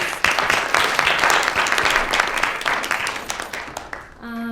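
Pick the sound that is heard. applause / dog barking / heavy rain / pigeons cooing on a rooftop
applause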